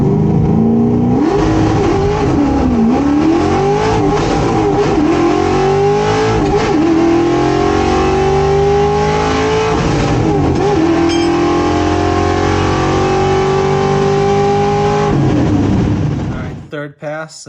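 A 1968 Ford Torino drag car launching down a drag strip, a loud, close, sustained engine roar climbing in pitch through the gears with brief dips at the shifts, cutting off abruptly near the end.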